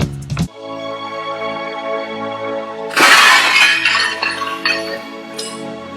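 An old, heavy toilet is smashed into pieces during a home bathroom makeover. A sharp hit comes first, then a loud crash with scattering, clattering fragments over a steady background tone.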